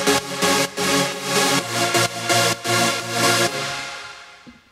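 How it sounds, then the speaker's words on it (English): Layered progressive house supersaw synth chords, high, mid and low layers combined, pulse in a short rhythmic run of full, wide stabs before ringing out and fading at the end, with no talking. "really full sounding super saw"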